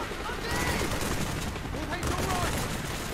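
Rapid gunfire in the video game Call of Duty: Black Ops, bursts of shots crackling continuously over a busy in-game background for a few seconds.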